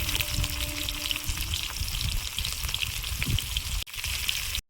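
Black cumin and chopped onion fry in hot oil in a wok, a steady loud sizzle with crackling pops, ending in a brief drop near the end.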